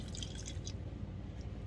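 Malibu coconut rum poured slowly into an ice-filled jar, a soft, continuous trickling and dripping stream that lasts under two seconds, close and steady with no talking.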